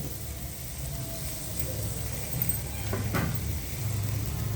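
Brinjal frying in oil while being stirred slowly, a soft steady sizzle at moderate level with a brief scrape of the spatula partway through.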